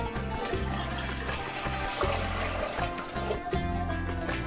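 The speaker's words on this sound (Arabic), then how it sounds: "بدنا نضيف المي على الزيت" Water being poured onto hot oil in a cooking pot for rice mansaf, a continuous loud gushing and splashing pour with a low rumble underneath, steady throughout.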